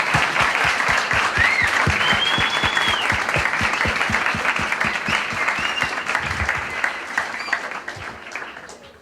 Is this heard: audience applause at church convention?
yes